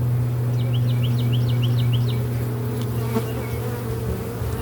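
Honeybees buzz in a continuous low drone close by while a hive is opened for inspection, and faint bird chirps are heard in the background.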